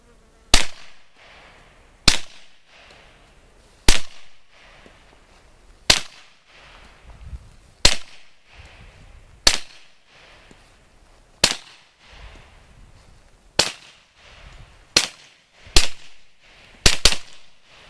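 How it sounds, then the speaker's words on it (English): A Kriss Vector Gen 2 short-barreled rifle fires single shots at a range, about a dozen loud, sharp reports at roughly regular intervals, each one followed by a brief echo tail. "We just got done firing the Kriss"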